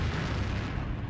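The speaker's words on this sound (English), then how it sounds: "the largest guided bomb in the history of the world, with the tremendous impact and detonation of this explosive really just shook the area" A MOAB guided bomb detonation produces a heavy, sustained low rumbling boom that fills the short moment at steady loudness, with no voices.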